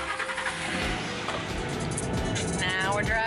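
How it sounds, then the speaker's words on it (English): A car drives along at steady speed with an engine hum and road noise throughout, and people talk over it. "Now we're driving back home."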